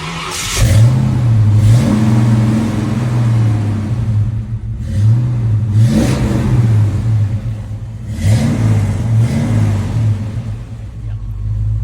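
Car fitted with louder aftermarket mufflers, its engine idling with a deep, steady burble and blipped several times into short revs that rise and fall, close and fairly loud.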